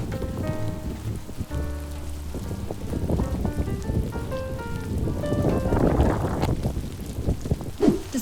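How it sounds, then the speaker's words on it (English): Heavy rain pours down during a summer thunderstorm on the English coast, a steady dense wash of drumming drops on a bus roof, loud and continuous, with tonal music playing over it. "the heavens opened, the rain came pouring down, and as the darkness rolled in, so did a thunderstorm"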